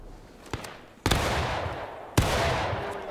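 Musket volleys in War of Rights, a Civil War-era mock skirmish: a faint early shot, then two loud, sharp volleys about a second apart, each trailing into a long rumbling echo.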